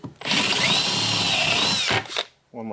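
A power drill whirs at high speed for about two seconds, close and loud, then winds down, followed by a short burst of speech.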